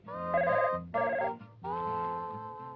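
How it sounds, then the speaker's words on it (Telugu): A telephone rings in short repeated bursts of a warbling electronic bell tone, two quick rings then a longer one, clear and close with no talk over it. "ఫోన్ వచ్చింది, మాట్లాడుతున్నాను"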